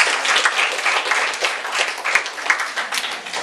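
An audience at a school debate event clapping for a introduced judge, a dense, sustained round of applause from many people, loud and even throughout.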